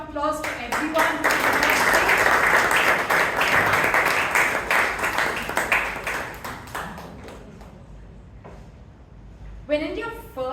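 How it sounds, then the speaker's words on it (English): An audience at a Toastmasters club meeting breaks into several seconds of loud, dense applause that gradually tapers off, with a voice speaking before and after the clapping. "Let's give a round of applause to everyone."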